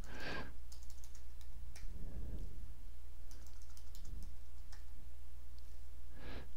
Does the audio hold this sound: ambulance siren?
no